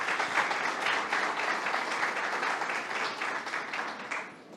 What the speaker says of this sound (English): a big round of applause for our winners